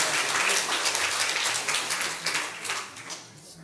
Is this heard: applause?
yes